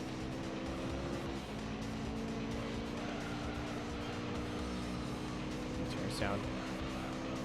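Race car engines in Gran Turismo 3 drone and rise in pitch with a steady revving whine throughout, and a voice talks over them.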